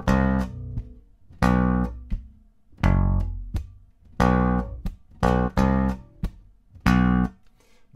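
Bass guitar plays the slow whistling-part melody from a song in separate notes with short gaps between them, loud and close, with no voices.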